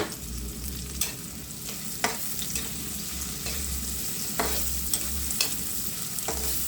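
Red onion fries in a hot pan with a steady, fairly quiet sizzle, broken by regular stirring scrapes.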